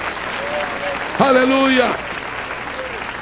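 A church congregation claps during a preacher's sermon, the dense clapping continuing steadily beneath a loud, drawn-out exclamation from the preacher's voice.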